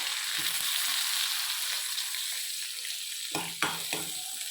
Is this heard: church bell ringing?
no